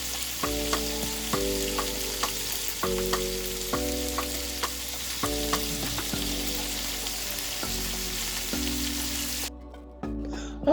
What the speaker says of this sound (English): I'm sauteing them in a pan with some butter